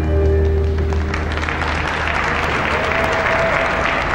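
Dense applause from a studio audience at the Eurovision Song Contest fills the space, steady and loud throughout, with a low hum underneath.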